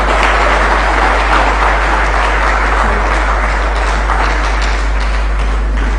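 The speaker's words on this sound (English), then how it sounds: "Please give another round of applause" Audience at a Ghanaian economic forum applauds steadily, a dense continuous wash of clapping from many hands, loud and close, with no talk over it.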